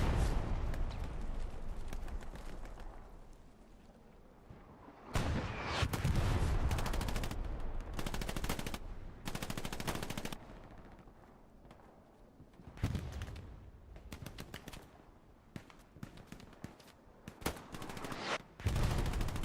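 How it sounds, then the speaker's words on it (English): Gunfire in Hell Let Loose, a competitive World War II shooter match, with repeated bursts of rifle and machine-gun fire rattling in loud clusters, separated by quieter distant pops and background battle noise. "the boys firing off into the distance"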